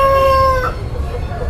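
A rooster crows once at a Sunday country-chicken market in Ongole, a loud close call that fades into the low murmur of the market crowd.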